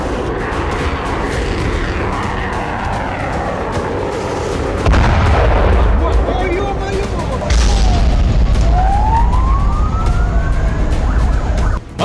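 Artillery fire from MLRS rocket launchers and howitzers striking Ukrainian positions: loud, dense battlefield rumble with heavy low booms, a sharp blast near the middle and a rising whistle, with a siren-like tone throughout.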